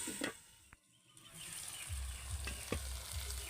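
Okra (bhindi) frying in a pan, a steady sizzle stirred now and then with a few sharp scraping clicks, close and fairly loud, with no voices.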